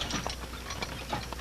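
An old hand-operated printing press clacks and ratchets in a short burst of mechanical clicks and thumps, close and fairly loud.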